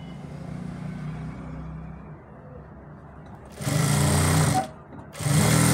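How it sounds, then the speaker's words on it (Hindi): A sewing machine stitches a ladies' pant panel, first a low steady hum, then two loud close bursts of rapid stitching separated by a brief pause. "जो ये हमारा ये पल्ला है इस पर हम यहाँ तक सिलाई लगाएंगे ऐसे"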